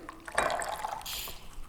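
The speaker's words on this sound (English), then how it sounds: "Our simple syrup goes right in." Simple syrup pours into a watermelon lemonade mix, giving a soft, close liquid splash and trickle for a second or so before tapering off.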